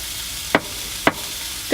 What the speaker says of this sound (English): Making a stir fry.